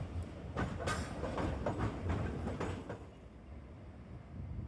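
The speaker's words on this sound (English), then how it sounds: "Beary filmed trams coming around the bend." Hiroshima trams roll around a bend with rhythmic clacking of wheels over rail joints and a steady rumble, the clatter fading after a few seconds into quieter street ambience.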